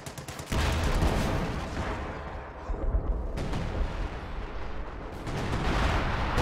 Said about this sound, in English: Pathfinder artillery gets dropped here